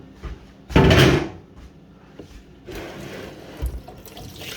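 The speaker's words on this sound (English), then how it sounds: "In this fridge, this one drawer slides out easy." A drawer slides out of a kitchen fridge in one loud scraping rush, followed by quieter rattles and a couple of light knocks from the plastic drawer being handled.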